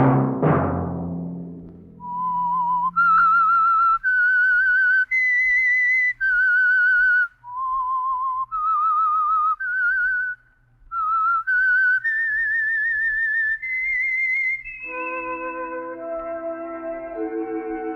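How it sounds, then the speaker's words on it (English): The Whistler radio program's signature tune, whistled clearly and alone as a slow, rising and falling melody of sustained notes. A soft orchestral chord closes it. "Let that whistle be your signal for the Signal Oil program, The Whistler."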